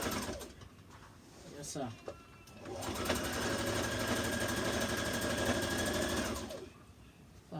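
A sewing machine runs a decorative stitch in one continuous, rapid mechanical chatter lasting a few seconds, with brief quiet starts and stops on either side and a short spoken remark nearby.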